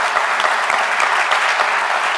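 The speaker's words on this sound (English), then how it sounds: "So let's give them a round of applause." Audience applause at an evening annual meeting presentation, a dense, steady round of clapping from a crowd, loud and close, continuing throughout.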